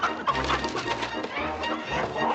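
Chickens clucking in a busy flurry around a ranch, dense overlapping bird calls filling the scene at moderate loudness with steady low background noise.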